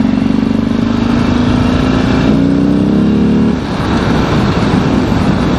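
Harley-Davidson XR1200 motorcycle with a modified 1200 engine carrying Buell parts, revving loud and close in one steady, rising roar that dips briefly near the end.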